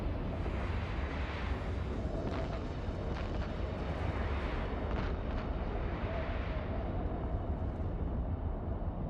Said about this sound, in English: Oh, I just got spanked with a rocket.